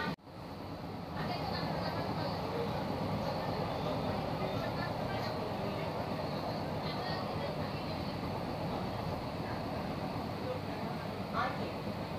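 Kolkata's first AC local train on its inaugural run from Sealdah towards Ranaghat, heard from inside as a steady low rumble and hum of the moving carriage that continues evenly throughout.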